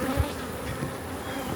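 Honey bees buzzing around a beehive during a summer split, a steady close drone of many wings with a few louder passes near the listener, no voices.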